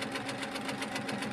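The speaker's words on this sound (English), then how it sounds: "Now as I start stitching, again, you want to have no resistance," A Handi Quilter quilting machine stitches yarn or ribbon with no thread tension, giving a steady, rapid needle chatter over a continuous motor hum, close and even throughout.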